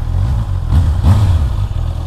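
A 2021 Honda CB650R motorcycle engine runs close by with a low, smooth, even rumble and slight rises in revs, loud and with no talk over it.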